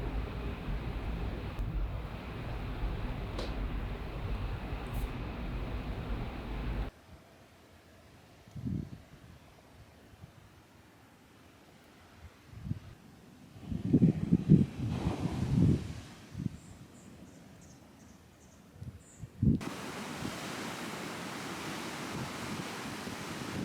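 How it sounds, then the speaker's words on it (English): Ocean waves on a shore in a steady wind-blown roar at the start, followed by quieter stretches with a swelling surge and crash midway and the rushing surf returning loud toward the end. "the waves are so good."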